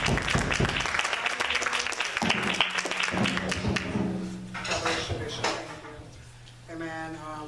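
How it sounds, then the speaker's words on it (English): A church congregation claps during a Black History Month program, a dense burst of applause with thumps and taps that fades midway as voices and musical tones take over. "Clap your hands for her and stay."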